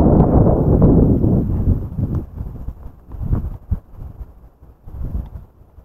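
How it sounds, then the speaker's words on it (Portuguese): Strong wind buffets the microphone near a river on a farm, with heavy low rumbling gusts that fade and return in bursts. "aqui tá ventando muito forte"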